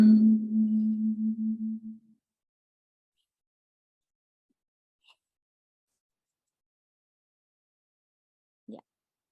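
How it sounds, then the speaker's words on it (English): A metal water bottle struck once rings with a low, gong-like hum that wavers and fades over about two seconds, followed by near silence with a couple of faint ticks. "One time I banged my water bottle and it sounded like a gong."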